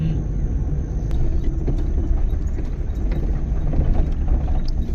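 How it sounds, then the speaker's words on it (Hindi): A motorbike rides ahead on a night road through dense jungle near Nawegaon, heard as a steady low engine rumble and road noise that stays constant throughout, with no voices. "ये बाइक वाला आगे आगे भगा रहा है"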